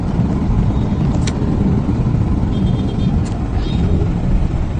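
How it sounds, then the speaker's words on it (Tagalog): Heavy road traffic in Manila rumbles continuously with low engine drone close by, and faint brief squeals of brakes briefly sound above the steady noise. "Yan ang napaka-traffic."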